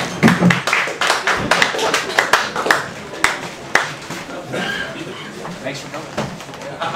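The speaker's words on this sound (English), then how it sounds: "let's have a big round of applause for Bob Kramer" An open mic audience claps for a poet at a Halloween poetry night, with a burst of close, uneven hand claps that thins into scattered taps while voices talk alongside.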